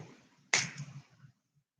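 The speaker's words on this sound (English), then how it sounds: "Snap my fingers." A single crisp finger snap, close and fairly quiet, followed by a faint room echo and low background murmur in a quiet indoor talk setting.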